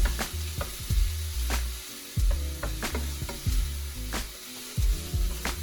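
Vegetables sizzle steadily in a hot pan, punctuated by repeated clacks of a utensil stirring and scraping every half second or so.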